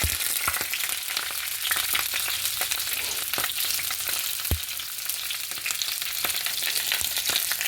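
Slices of cabbage frying in a pan, a close, busy crackling sizzle with sharp pops and a couple of knocks from the utensil as they cook undisturbed by talk.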